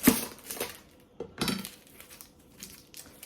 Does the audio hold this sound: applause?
no